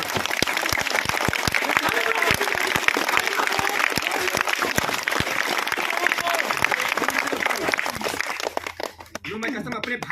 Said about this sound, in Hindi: ताली मारो यार।